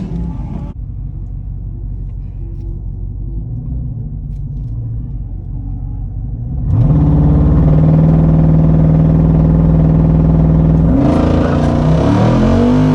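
Jeep Wrangler Rubicon 392 at a drag race, a deep engine rumble idling close by that suddenly surges into a loud, sustained acceleration roar, with a further rise in pitch near the end.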